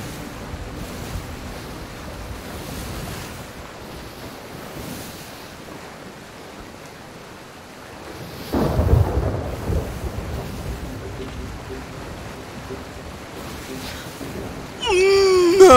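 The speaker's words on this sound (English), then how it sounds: "Because of this storm, and it's making these waves going" Stormy ocean waves surge and crash in Sea of Thieves, with a deep rumble of thunder rolling in midway and wind noise throughout, growing louder near the end.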